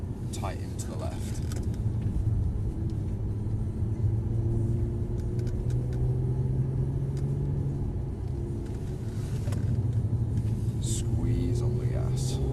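A Mercedes-Benz engine in Sport Plus mode rumbles low and steady while driving, with a louder drone and occasional swells, heard faintly from inside the cabin.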